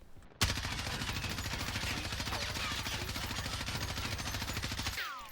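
An M4A1 assault rifle fires in Warzone Season 4 Reloaded, a sustained, rapid automatic burst of evenly spaced shots that runs for nearly five seconds after a brief quiet start, then stops abruptly.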